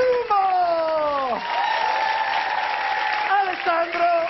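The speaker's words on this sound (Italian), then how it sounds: "Un applauso al nostro" A comedy show audience on Zelig applauds and cheers, with loud sliding shouted voices riding over a fainter bed of clapping throughout the short stretch.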